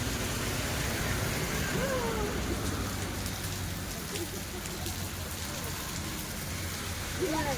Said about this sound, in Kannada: ಮಳೆ ನೋಡು ಮಗು ಎಷ್ಟು ಮಳೆ ಬರ್ತೈತೆ.